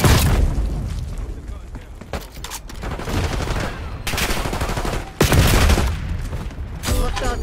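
Game combat audio from Black Ops 6 multiplayer: a loud frag grenade blast near the start and another heavy boom around five seconds, amid continuous gunfire and explosions, with voiced callouts over the din.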